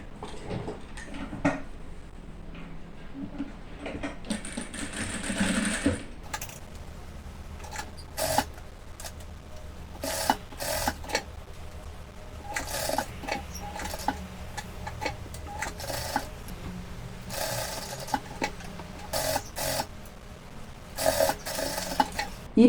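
A sewing machine stitching the border of a cotton dish towel runs in short, irregular bursts of quick ticking stitches, separated by pauses and fabric handling, close by and moderately loud.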